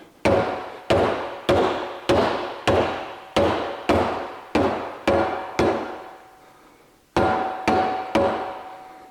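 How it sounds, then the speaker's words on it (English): Repeated heavy thuds of a hide mallet striking a metal rollbar tube, about a dozen evenly spaced blows with a short pause before the last few, close and loud. "I'm using a hide mallet, because I don't really want to marl that up with hammer marks."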